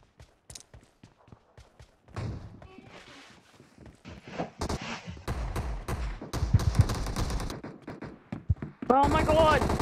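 Rapid bursts of gunfire from PUBG Mobile Gun Game, starting with sparse single shots and building into dense automatic volleys near and far, with a player talking over the shooting.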